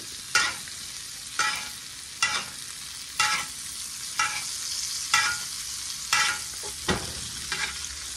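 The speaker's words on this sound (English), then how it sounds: "Do not forget to baste your steak with butter, garlic, and thyme." Steak frying in a pan with butter, garlic and thyme sizzles continuously, with a rhythmic swell roughly every second as hot fat is spooned over the meat.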